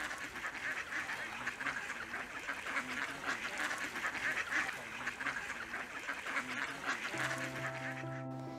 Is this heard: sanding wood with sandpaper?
no